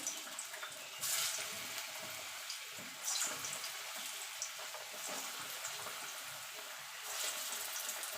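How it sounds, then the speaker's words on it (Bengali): Raw jackfruit koftas frying one by one in hot oil in a wok, a quiet continuous sizzle with a few louder bursts as pieces go in, no talking. "দেখুন বন্ধুরা তেলটা গরম হয়ে গেছে। আমি কোপ্তাগুলো ছেড়ে দেবো এক এক করে।"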